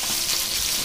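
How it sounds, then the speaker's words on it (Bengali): Fish frying in a pan in a home kitchen gives a loud, steady sizzle of hot oil, close and continuous, with no talk over it. "চলছে এখন মাছ ভাজা"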